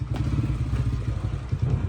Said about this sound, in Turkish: Motorun sesi geldi kulağıma.